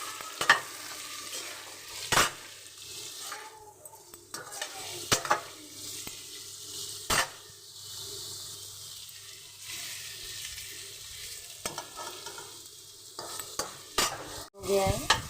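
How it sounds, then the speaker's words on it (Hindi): Food frying in hot oil in a home kitchen, with a continuous soft sizzle beneath irregular stirring and scraping strokes and occasional sharp clicks, moderately quiet and with no talking. "तो फ्राई कर लेती हूँ अच्छी तरह से।"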